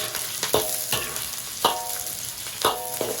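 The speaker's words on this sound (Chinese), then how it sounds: "葱姜蒜爆香" Scallion, ginger and garlic stir-fry in hot oil in a wok, a steady close sizzle broken by repeated scraping strokes of the spatula at a brisk rhythm.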